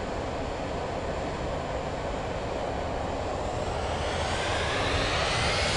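Aircraft engine of a landing plane in Microsoft Flight Simulator 2024, a steady broadband roar that holds loud and even throughout, rising slightly in pitch toward the end, with no talk.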